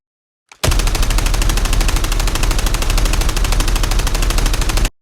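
Rapid, continuous automatic fire from an AK-117 assault rifle in a shooting video game, a dense loud burst of evenly spaced shots lasting about four seconds, close and alone with no voices.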